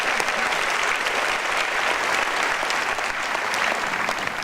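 Graduates at a 2017 Virginia Tech National Capital Region commencement applaud in a dense, steady wash of clapping from a large crowd, sustained and even throughout with no pauses.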